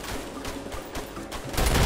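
Rapid gunfire in the co-op video game A Way Out, with shots crackling in a dense, steady burst through the whole moment and swelling louder near the end.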